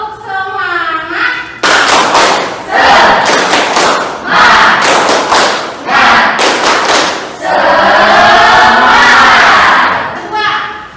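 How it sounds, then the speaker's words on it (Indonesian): A classroom of students performs a rhythmic spirit-clapping chant, bursts of synchronized claps alternating with shouted chanting voices, loud and close. "Oke, semuanya harus tepuk semangat"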